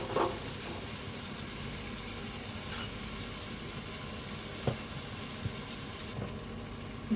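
Chopped tomatoes, salted, sauté in a pan for dhal fry, giving a steady low sizzle and hiss with a few soft clinks from a spoon.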